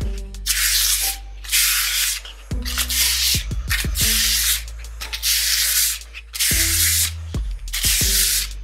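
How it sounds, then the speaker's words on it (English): A plastic lid smooths earthen plaster over a hyperadobe wall in long rasping strokes, each a loud broadband scraping swipe with brief pauses between, heard up close alongside a low steady hum. "I have to use this guy, little plastic lid, and I'm able to get in more weird curves that way and really blend it in"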